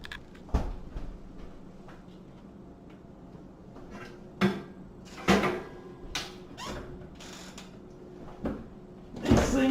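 Latch and hinge hardware of a Thermador SCD272TP oven door being unlatched and lifted off its hinges, giving scattered metallic clunks and clicks at close range, with sharper knocks near the start and end amid quiet pauses.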